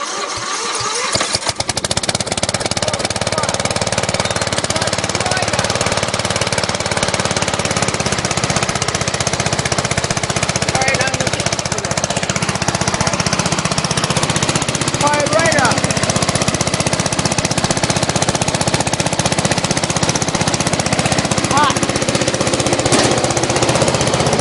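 Briggs and Stratton lawn mower engine running steadily at half throttle without choke, a loud continuous rattling drone close by that holds an even pitch throughout after a brief start.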